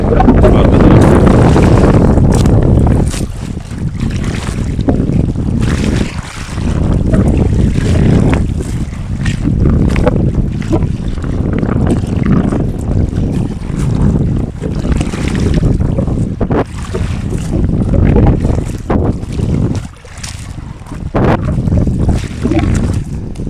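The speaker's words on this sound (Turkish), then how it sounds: "Çok acayip rüzgar var arkadaşlar." Strong winter wind buffets the microphone in loud, continuous low roaring gusts outdoors at a fishing spot, with occasional voices underneath.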